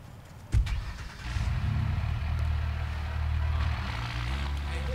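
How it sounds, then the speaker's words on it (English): A car in the video game Watch Dogs starts with a sharp clunk, then its engine hums steadily at low pitch, rising slightly as it drives, close and fairly loud. "This car sounds weird. And it's slow as hell."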